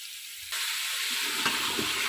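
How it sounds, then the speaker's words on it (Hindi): Grated carrots cooked with cardamom for carrot halwa fry in a pan, starting with a quieter hiss that swells into a steady, bright sizzle with a few stirring scrapes, close and without voices. "गाजर हमारी बहुत अच्छे तरीके से फ्राई हो गई है"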